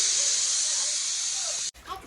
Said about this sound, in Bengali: তারপরে এই প্রেশার কুকারে বসে দিয়েছি